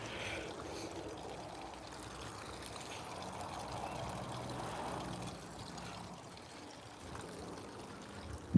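Water pouring and splashing down a concrete waterfall into a concrete garden pond, a steady, fairly soft rushing with no voices.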